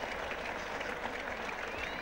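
A large cricket crowd at Trent Bridge applauds Hendrick's spectacular catch at third slip during the 1977 England v Australia Test, a steady, dense wash of clapping that holds evenly throughout without any talk.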